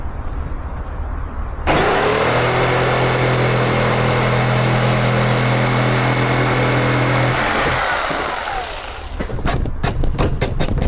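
A power saw cuts a slat for an ambulance-to-campervan conversion, a loud sustained whine and grinding that runs for several seconds and then winds down, recorded up close.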